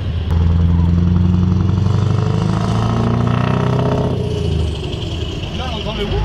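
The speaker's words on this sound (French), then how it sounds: "Là, on entend le wouh, c'est le turbo en fait." A 480 hp V8 truck with a straight-through exhaust revs loudly up close, a deep, rough roar rising and falling, then easing off with a brief turbo whoosh and a fluttering release at the end.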